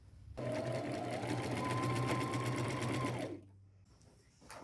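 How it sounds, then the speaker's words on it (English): A sewing machine zigzag-stitching patches onto a stretchy shirt with gold thread, running as a fast, steady, close-up whir for about three seconds, then stopping to quiet. "I will use a zigzag stitch, stay close to the edges, and get everything sewn on"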